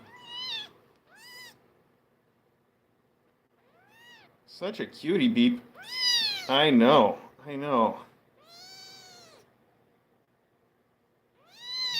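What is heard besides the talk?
kitten meowing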